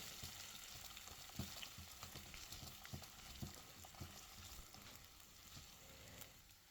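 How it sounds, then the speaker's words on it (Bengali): Spices with garlic powder frying in a pan for a beef chili, a steady crackling sizzle with scattered pops and occasional stirring, close and continuous, no speech. "এবার এই মশলাগুলোকে আমি সোনালি রং ধারণ হওয়া পর্যন্ত ভেজে নেব।"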